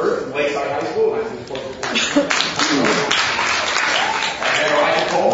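Studio audience at a televised high school quiz show applauding and cheering as contestants are introduced, a steady wash of clapping mixed with a host's voice speaking over it.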